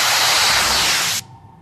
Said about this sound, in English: When it's done, you're gonna turn around and it's gonna spray your back.